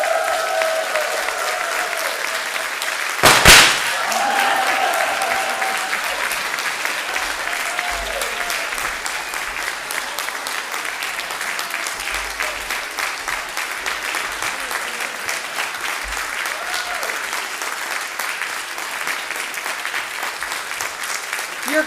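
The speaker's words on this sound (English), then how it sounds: "You're clapping for yourselves." Sustained applause from a church congregation during a Sunday worship service, a dense, steady wash of clapping that carries on throughout at an even level, with a brief sharper burst near the start.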